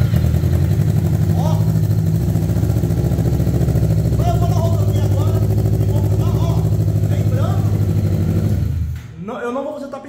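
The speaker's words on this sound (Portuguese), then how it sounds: "vou esquentar a moto dá uma reconhecida que ela tá com escapamento novo" Motorcycle fitted with a new exhaust, riding at steady engine load with a continuous loud drone throughout, fading as it slows near the end while a voice talks over it.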